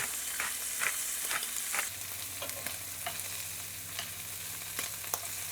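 Shrimp fry in a pan with black pepper for banh xeo, a steady bright sizzle with sharp clicks and scrapes as they are stirred, close and fairly loud.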